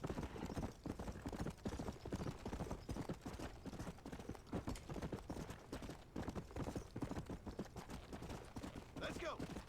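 Horse hooves clop steadily in Red Dead Redemption, a fast rhythmic galloping beat throughout, close and fairly loud, with occasional game sounds.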